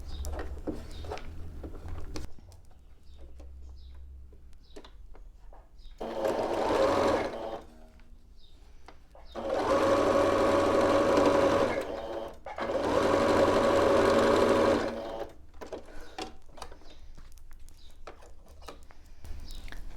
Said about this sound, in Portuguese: E agora, passar a costura de fora a fora também.